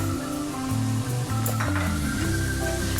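Masala with ground spices, coriander and mint being mixed and fried for fish biryani, a loud close sizzle with spoon scrapes and stirring.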